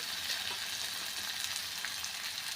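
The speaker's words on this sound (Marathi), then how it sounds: "गवार चांगली परतली आहे मऊसूत करून घ्यायची आहे" Cluster beans (gavar) sautéing in a pan for a dry spiced vegetable dish, giving a steady, close hiss of frying that runs unbroken throughout with no voices.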